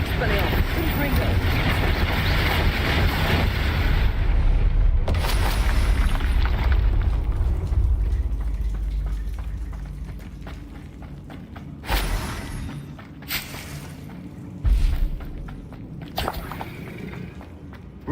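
Spell explosions from Confringo and Bombarda in Hogwarts Legacy: deep rumbling booms and blasts, loud at first and then fading into sporadic bursts, heard under a speaking voice.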